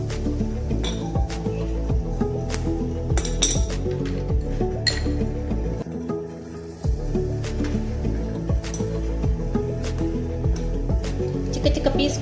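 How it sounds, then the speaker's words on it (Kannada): A glass bowl clinks several times over a pot of boiling water as chocolate is melted by double boiling, with soft liquid and dish noises under steady background sound. "ಗಾಜಿನ ಬೌಲನ್ನು ಇಡ್ತಿದ್ದೇನೆ"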